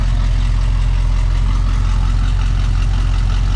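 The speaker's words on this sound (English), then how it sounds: "There's that nice cool exhaust." Steady idle from the exhaust of a 1967 Pontiac Firebird 400 convertible, a cold V8 muscle car, rumbling low and loud with an even pulsing throb, close up and alone.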